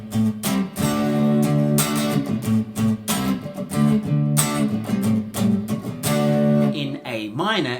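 Strummed guitar chords in Dorian mode ring out in a repeating progression, loud and close, with a brief talking voice at the very end.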